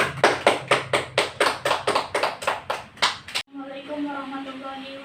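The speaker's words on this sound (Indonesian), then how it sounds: "Mari kita beri tepuk tangan." Applause in a quick, even rhythm of about a dozen claps that stops suddenly, followed by a voice speaking.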